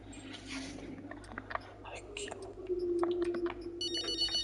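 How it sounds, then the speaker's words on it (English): Phone ringing in the racing game F1 23, a bright electronic ringtone that starts late after some soft rustling and murmur, then repeats clearly in the foreground. "Oh, that bloody phone!"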